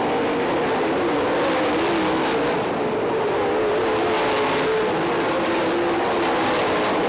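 Several 410 sprint car engines drone and whine together in a continuous loud roar on a dirt track at Lawrenceburg Speedway, pitch wavering as the cars circle through lap traffic.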